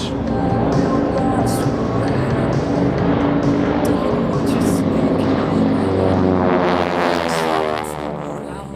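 North American T-6 Texan WWII trainer aircraft flying close-formation aerobatics at an airshow: a loud, sustained droning roar of radial engines fills the whole stretch, shifting in pitch as the planes pass and fading slightly at the end.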